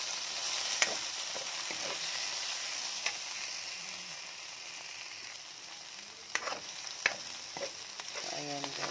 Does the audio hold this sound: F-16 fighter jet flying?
no